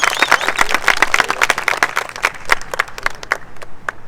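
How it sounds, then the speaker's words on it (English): An audience at a high school Arbor Day tree-planting ceremony applauds students who performed, a dense, close burst of many hands clapping that thins out and fades toward the end. "So give them a round of applause."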